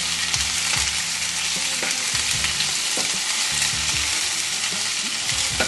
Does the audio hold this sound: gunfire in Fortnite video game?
no